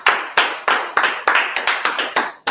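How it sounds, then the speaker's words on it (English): A small group claps in unison, sharp rhythmic hand claps in a fast regular beat of about eight strikes, close and crisp, at the end of an online curriculum review session. "Let's clap it out."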